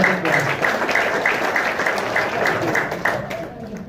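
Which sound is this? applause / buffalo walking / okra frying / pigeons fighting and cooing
applause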